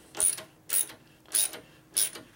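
A ratchet clicks while a bolt is tightened on the rear master cylinder of a 1990 Harley FXR, four evenly spaced crisp bursts of close, fairly quiet clicking.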